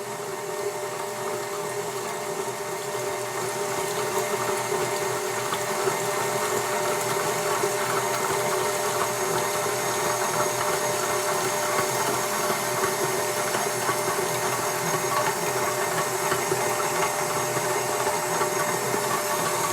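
An electric mixer whirs steadily at low speed as cream and vanilla bean are streamed into a crème brûlée base, a constant close motor drone running alone for the whole stretch with no talk.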